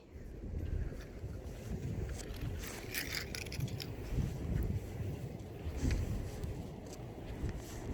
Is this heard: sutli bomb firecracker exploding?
no